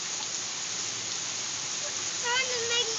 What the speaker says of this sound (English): There's lots of rain.